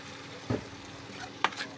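Spices frying in a pan for a tengra fish curry with jackfruit seeds and potato, a quiet steady sizzle broken by two sharp scraping clinks of the stirring spoon.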